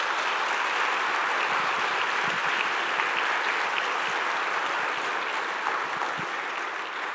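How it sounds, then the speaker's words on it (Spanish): A church congregation applauds during a Spanish-language sermon, dense and loud clapping that holds steady throughout and tapers slightly near the end. "Dale un aplauso al Señor"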